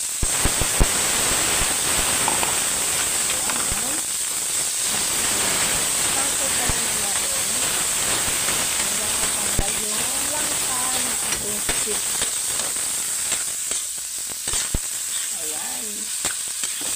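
Squid hits a hot pan and fries with a loud, continuous sizzle and hiss up close, while a person talks over it.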